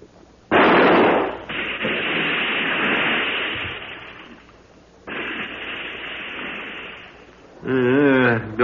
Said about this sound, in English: Well, I'll have to shoot.